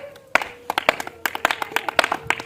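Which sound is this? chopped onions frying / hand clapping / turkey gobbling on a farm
hand clapping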